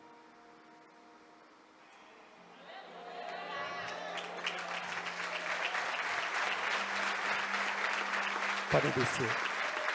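A church congregation breaks into sustained applause, swelling from quiet to a loud, dense roar of clapping with a low tone held beneath; someone speaks briefly near the start.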